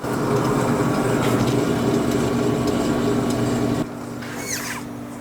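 The worn right wheel bearing on a 2017 Nissan Rogue grinds and rumbles steadily as the wheel spins, a loud close droning whir that suddenly drops to a quieter hum near the end.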